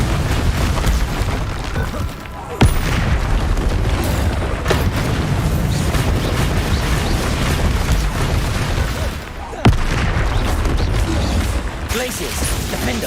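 Repeated spell blasts in the Hogwarts Legacy video game, a dense barrage of loud booming explosions and bursts that runs almost continuously, with brief dips between volleys.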